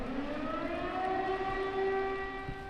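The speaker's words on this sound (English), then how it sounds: "The wailing siren has become part of the backdrop to life here in Kharkiv" Civil defense air-raid siren wailing over Kharkiv, Ukraine, amid wartime attacks: a steady, loud rising-and-falling tone that sounds alone and continuously with no talk.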